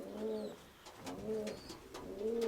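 Pigeons coo repeatedly in a loft, soft rhythmic throaty calls in close succession, fairly near and quiet, with faint chirps in the background.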